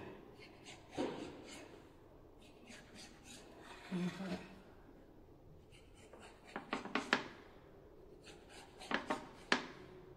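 Rolled-out snack dough being cut with a knife, giving a series of close, scraping and tapping strokes on a board that come in bursts, sharper and quicker toward the end, with no talking.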